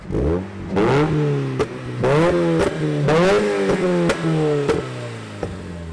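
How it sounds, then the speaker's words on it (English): Mazda Miata with a pops-and-bangs exhaust tune revving repeatedly, each rise in engine pitch followed by sharp cracking pops and bangs, loud and close. "some random clips over the past couple of months of the car shooting fire and just overall popping."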